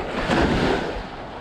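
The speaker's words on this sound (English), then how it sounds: "Ah, the noisy waves." Ocean waves wash on a beach in a steady, broad roar that swells slightly and then eases, with wind buffeting the microphone throughout.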